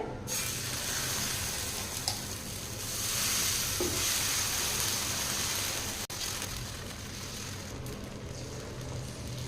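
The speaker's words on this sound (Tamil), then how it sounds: "அடுத்து வந்து நம்ம ஒரு கல் தோசை வந்து ஊற்றிக்கலாங்க." Barley and spinach dosa batter sizzling on a stone griddle, a continuous close hiss swelling and easing with faint scraping ticks and no voices.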